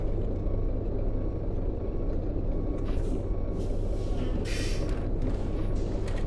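A truck engine in American Truck Simulator, driven on a night trip toward Truckee, drones as a steady, loud low rumble throughout, with occasional hissy airy bursts on top and no talking.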